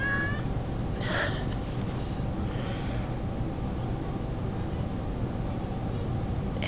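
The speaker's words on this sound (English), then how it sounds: "who's that nice kitty?" A cat meows once in a short, bright call near the start, then goes quiet against a steady background hiss with no clear talk.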